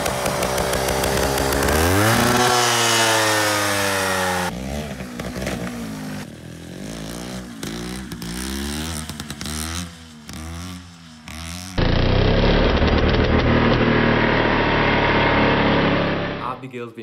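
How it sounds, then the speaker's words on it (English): A small motorbike engine revs hard and high during wheelies, pitch rising and falling in repeated bursts as the throttle opens and closes, loud and close. "Check out these wheelies."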